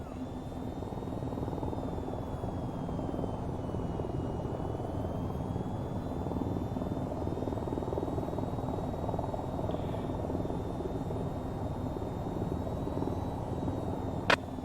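Steady aircraft engine drone in the flight game VTOL VR, cruising at about 198 knots during a four-ship multiplayer formation flight, a continuous even hum with no talk over it.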